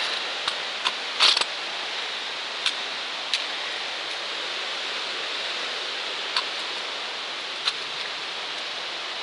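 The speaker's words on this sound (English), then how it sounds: "All that rain contributed to a good waterfall today." A waterfall swollen by a week of rain along the Appalachian Trail, a steady broad rushing hiss heard at a moderate distance, with a few faint clicks and taps over the constant roar.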